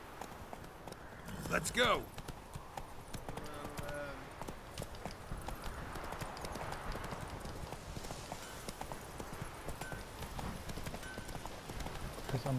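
Hooves of Roach, the horse in The Witcher 3, clip-clop in a steady galloping rhythm over open ground for the whole stretch. A voice briefly speaks near the start over the hoofbeats.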